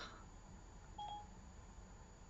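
A phone sounds a single short, faint electronic notification beep over a steady background hiss. There is no talking.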